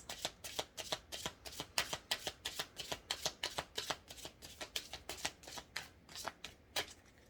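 Tarot cards being shuffled in a quick run of crisp riffling snaps, steady and close, with no voices over them.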